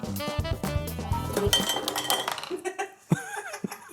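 Harissa chicken wings fresh from an air fryer tumble into a bowl with a few clinking knocks against the dish, close up, over background music.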